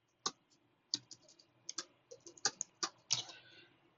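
Quick, irregular keystrokes as a command is typed on a computer keyboard while configuring a network switch, about a dozen crisp clicks close by with short pauses between bursts, no voice.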